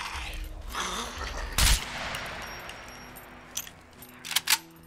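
Gunfire from another player in the survival game SCUM, a sharp burst near the start and a few more scattered shots toward the end over low ambient rumble.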